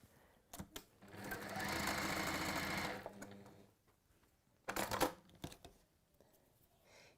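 Sewing machine stitching down a folded line of fabric, a close rapid mechanical whirr in one sustained burst, then a brief second run after a pause, with soft handling noises around it.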